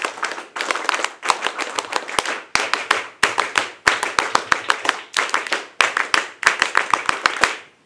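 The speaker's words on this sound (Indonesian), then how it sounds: "3 kali tepuk pramuka." Scouts at a camp in Cibodas, Cianjur perform the pramuka clap: a group claps in sharp, loud, rhythmic patterns, three rounds of quick claps with brief pauses between them.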